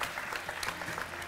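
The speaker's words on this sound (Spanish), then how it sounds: "Así un aplauso, es. Por wow. favor, para Helga" A studio audience on a talk show gives a brief burst of steady applause for a guest named Helga, a dense crowd clapping that lasts just over a second.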